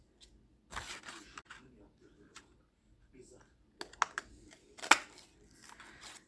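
A craft punch cutting through paper cardstock for party favors, making a few sharp, close clicks and crunches among quiet handling and rustling sounds.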